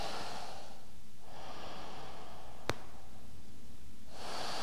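Deep, slow breaths during a vinyasa yoga pose, with a long airy inhale and exhale that swell and fade in a steady rhythm. Quiet and close, with no talking.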